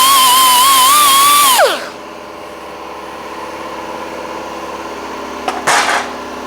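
An angle grinder smooths a repaired metal floor panel on a Classic Mini, a loud steady whine with a falling pitch as it spins down, followed by a quiet hum and a brief sharp burst near the end.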